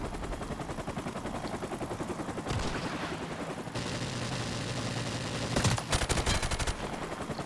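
G36C rifle firing in Call of Duty 4 Remastered online play, sustained rapid automatic bursts over dense game sound, with a sharper, louder volley near the end.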